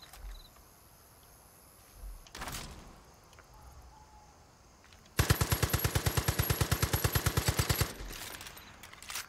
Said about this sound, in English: apparently these guys are running around with German submachine guns